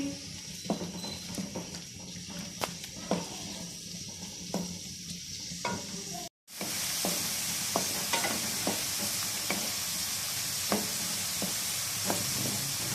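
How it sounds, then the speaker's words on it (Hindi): Onions fry in a cup of hot oil in a pan, making a continuous crackling sizzle with frequent small pops. After a brief cut midway, the sizzle returns brighter and louder. "अब हम इसके अंदर प्याज ऐड करेंगे और इसको फ्राई कर लेंगे।"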